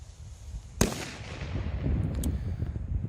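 Super Bangs TXP067 triplex firecrackers going off outdoors: one sharp, loud bang followed by a rumbling, crackling tail and a couple of fainter later pops.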